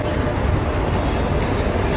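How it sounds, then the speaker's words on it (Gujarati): The Rajkot–Bhuj daily special passenger train rumbles along, a loud, steady low roar of wheels and carriage noise heard from close by, continuous throughout with no clear voices. "તો ભાઈ જોઈ શકો છો તમે રાજકોટ ભુજ દૈનિક સ્પેશિયલ ટ્રેન શરૂ થઈ ગઈ છે"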